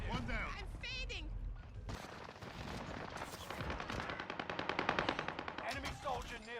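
Rapid automatic gunfire in Call of Duty: Warzone from MP40 and StG 44 style weapons, a dense, loud burst of closely spaced shots building to a rhythmic rattle, mixed with game effects and voice chatter.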